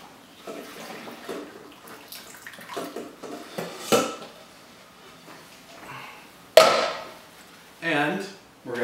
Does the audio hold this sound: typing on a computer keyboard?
no